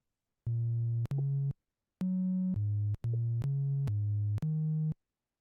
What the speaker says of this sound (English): kind of just getting that sine wave first